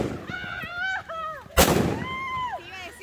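Firework mortars at a festive outdoor gathering: one sharp, loud blast mid-clip cuts through whistling, squealing sounds and excited voices around it.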